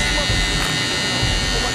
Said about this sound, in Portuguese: Agora você vem com a maquininha de acabamento e faz,